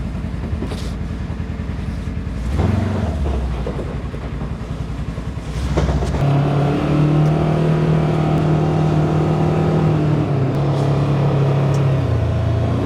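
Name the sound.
Polaris utility vehicle driving in four-wheel drive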